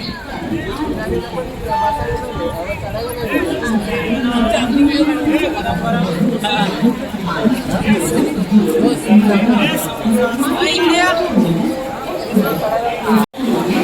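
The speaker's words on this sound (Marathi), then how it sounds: "चढायला पण जागा नाही आहे एवढी गर्दी आहे" A dense crowd on a railway platform chatters and calls out all at once, loud and close, with constant hubbub and a brief dropout near the end.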